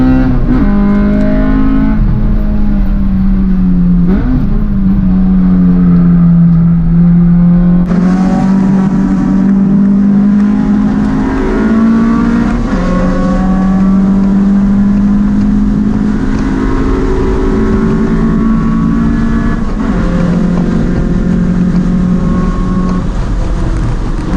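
Honda Civic EF hatchbacks with B20 VTEC engines racing on a track while chasing a Cadillac CTS-V Blackwing, heard as a loud, continuous in-car engine drone that rises and falls through revs and gear changes, with no speech.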